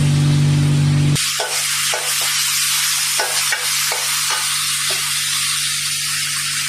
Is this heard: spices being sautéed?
yes